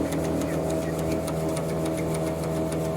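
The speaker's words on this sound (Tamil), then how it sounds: "எள்ளு வந்து முன்னாடி இருந்து பின்னாடி வரைக்கும் சலிக்குது." A modern sesame seed cleaning machine sieves seeds from front to back, producing a fast, steady mechanical clatter with regular rhythmic pulses, close and continuous, with faint voices underneath.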